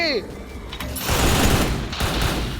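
Rapid bursts of automatic gunfire from a shooting video game fill the clip, loud and dense, with a brief clatter of rapid shots at the start before the sustained firing.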